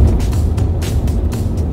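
A Toyota Tundra with a 4.7 engine and oversized tires drones low and steady while towing a trailer uphill, engine and road noise filling the cabin without a break.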